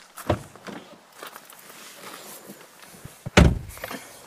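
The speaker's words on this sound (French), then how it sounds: "la porte se ferme avec un bruit sourd que l'on ne retrouve pas habituellement sur ce type de design sans cadre" A frameless door on a 2025 BMW 2 Series Gran Coupé shuts with one deep, solid thud near the end, after a few soft footsteps and light handling noises.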